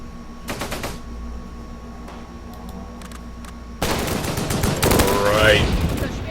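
Rapid bursts of small-arms and machine-gun fire in the World War II strategy game Close Combat, a few short volleys followed by a dense, sustained barrage with faint voices underneath.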